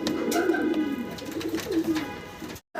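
Pigeons coo nearby at a pigeon farm in soft, repeated throaty warbles, several calls overlapping in a steady stream.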